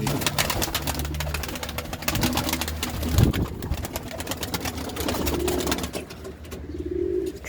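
Tumbler pigeons coo softly amid a busy, noisy backdrop, their low, rolling calls faint and intermittent beneath constant broadband clatter close by.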